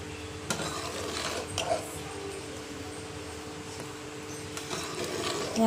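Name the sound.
stirring payas (rice milk pudding) in a pressure cooker pot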